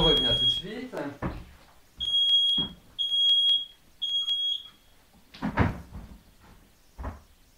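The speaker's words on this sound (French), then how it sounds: "c'est une alarme fumée, mais je ne sais pas pourquoi l'alarme s'est déclenchée vu qu'il n'y a pas de fumée." A home smoke alarm goes off in short, piercing electronic beeps, four or five bursts about a second apart. Someone talks between and over them.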